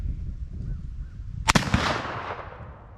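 Thompson Hawken black powder rifle firing outdoors, one sharp loud boom followed by a long rolling decay that fades over about a second.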